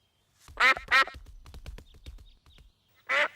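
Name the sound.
ducks quacking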